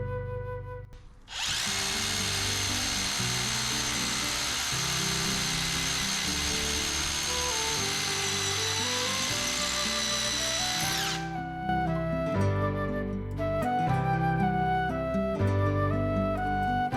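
Electric power drill boring screw holes for mounting a DIY awning, a loud continuous whine held for about ten seconds, then cutting off into softer clatter and handling noises.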